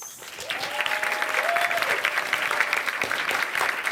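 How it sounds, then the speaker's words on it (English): Audience applause for intermission acts at a school stage production of The Mystery of Edwin Drood, a dense steady burst of clapping from a crowd lasting a few seconds. "A warm round of applause for our intermission acts"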